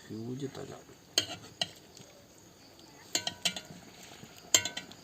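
Catfish head curry sizzles softly in a pan while the head is flipped, with sharp utensil clinks against the pan in three spaced clusters. A voice speaks briefly at the start.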